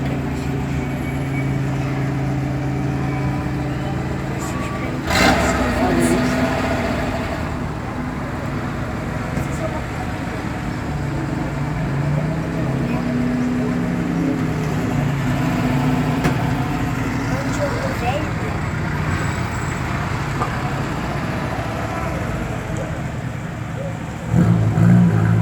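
Vintage historic cars roll past on a street near the Monfalim bridges, engines rumbling steadily with traffic noise throughout, while people talk over the passing vehicles.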